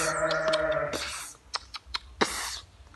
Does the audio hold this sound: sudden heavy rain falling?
no